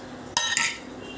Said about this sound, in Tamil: இப்போது எள்ளு, பெருங்காயம், வெந்தயம் வறுத்து வச்ச பொடியை இதில் போடணும். போட்டுட்டு கலரணும்.